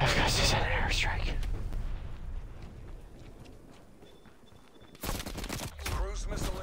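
An airstrike in the video game Call of Duty Black Ops: rumbling gunfire and blasts, with a sudden loud burst of explosions near the end, and a voice talking over the noise.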